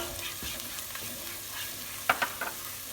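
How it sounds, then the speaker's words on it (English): Garlic fries in a pan for Greek soutzoukakia sauce, a steady soft sizzle with a few sharper utensil scrapes and taps near the end, no talking. "I'm just going to add the garlic in. If I had a spoon, it would be better. And fry off the garlic for about a minute."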